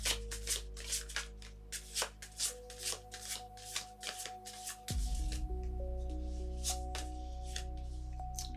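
A deck of tarot cards is shuffled by hand in quick riffling bursts, a run of crisp flutters up close, with a faint tonal hum underneath that steps up partway through.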